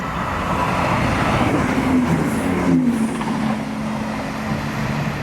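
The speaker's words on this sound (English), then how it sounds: "coming through now is Class 170 Turbostar." A Class 170 Turbostar diesel multiple unit on the Edinburgh Waverley to Inverurie service passes through South Gyle station, giving a loud, steady, close rumble with a droning engine tone that holds throughout, with no voices.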